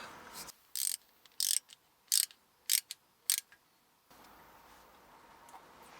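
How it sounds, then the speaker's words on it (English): A ratchet tightening bolts on a Mazda MX5 gear shifter, six quick clicking bursts in an even rhythm close up, followed by a faint steady background hum. "I now need to just bolt these 3 bolts back up."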